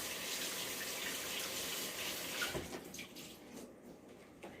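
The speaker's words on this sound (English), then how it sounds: "We will wash our hands and then we will start preparing the sauce." Hands being washed under a running tap before cooking, a steady hiss of flowing water that breaks into uneven splashes and drips toward the end, close and fairly quiet with no talk.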